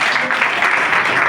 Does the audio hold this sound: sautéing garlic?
no